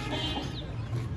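Aseel rooster giving a soft, brief cluck up close, a faint short call over low background hum.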